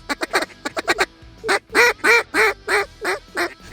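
Ducks quack and honk during a duck hunt, a loud run of calls in rapid bursts that gives way to longer, evenly spaced honking calls, close by with no talking.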